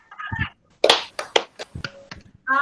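Students in a classroom session clap out the 'tepuk sore' rhythm: short, crisp groups of hand claps in a patterned beat, with brief bits of voice before and after, in a quiet room.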